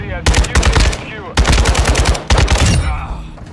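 RPK machine gun firing in Modern Warfare 2, loud rapid automatic bursts in three long strings separated by short pauses, close and dominant.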